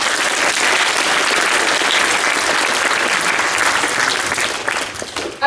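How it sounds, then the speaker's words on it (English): A lecture audience gives a volunteer a round of applause, a loud, dense and sustained burst of clapping that tapers slightly just before it stops. "Round of applause for our volunteer"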